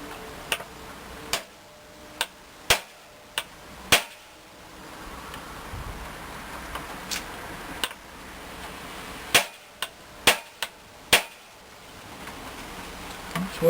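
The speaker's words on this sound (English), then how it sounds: "Don't know if this hammer's going to be big enough." Hammer strikes on a setter fixing hardware into a Kydex knife sheath, about a dozen sharp, loud metallic taps in irregular bursts over quiet background, close by.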